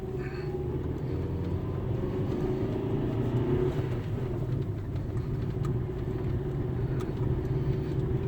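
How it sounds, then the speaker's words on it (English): A car engine held at high revs while the clutch slips on an uphill pull, a loud steady droning rumble inside the cabin with little change in pitch throughout. "Load the revs right up. Slip the clutch a little bit."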